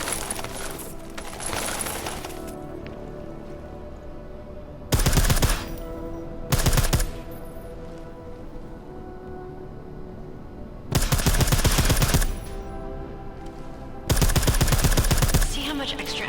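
Suppressed gunfire in Deus Ex: Mankind Divided, heard as four short bursts of rapid muffled shots with gaps of quieter game ambience between them.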